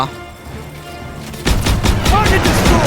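Loud, rapid gunfire bursts erupt in Call of Duty WWII after a quieter lead-in, with sharp cracks repeating in quick succession. A player talks excitedly over the shooting.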